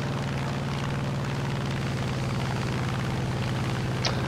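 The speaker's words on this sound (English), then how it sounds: "All the planes are going after one plane." Propeller warplanes in the War Thunder video game drone steadily with a loud, throbbing engine hum, several aircraft overlapping in one continuous roar, with a faint brief crack near the end.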